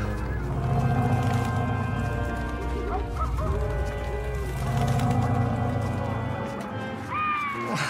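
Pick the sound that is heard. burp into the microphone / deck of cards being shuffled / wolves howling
wolves howling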